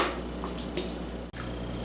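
Tuna melt pie filling is poured into a deep dish pie plate, giving a soft, wet, continuous slopping sound up close with a brief pause partway through.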